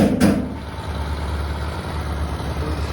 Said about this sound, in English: Where the spray foam truck is.